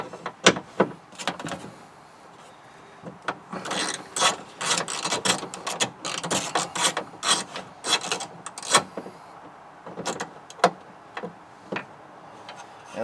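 A hand ratchet clicks in quick bursts while removing window regulator screws inside the door of a 2003 Chevrolet Monte Carlo, with irregular close metallic ticking, pauses between strokes and faint rattles of parts.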